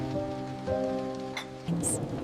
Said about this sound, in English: the sound of the rain